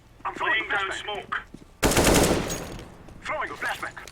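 A voice talks, then a loud burst of rapid video-game gunfire cuts in and fades, and the talking resumes.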